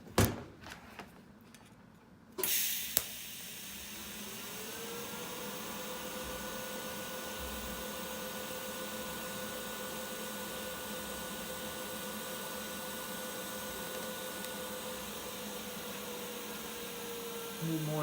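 TIG welding an exhaust hanger bender in a shop, a steady faint hissing buzz that holds evenly for about fifteen seconds after a few clicks and clunks of setup at the start.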